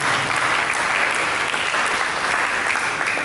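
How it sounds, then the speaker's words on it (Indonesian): A church congregation applauds in a dense, sustained burst of clapping that fills the room evenly throughout. "Mereka berikan tepuk tangan."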